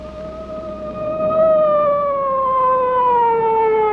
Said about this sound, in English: Within minutes, an ambulance was on the scene.